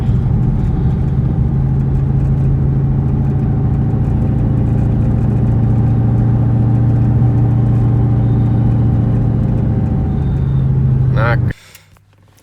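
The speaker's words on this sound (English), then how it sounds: "Car just stalled out." A 2003 Ford SVT Cobra idling roughly with a steady mid-pitched engine rumble, then sputtering and abruptly dying as it stalls, leaving near silence.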